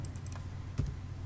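Computer keyboard keys being typed, a few quick soft clicks at a close distance over a low room hum.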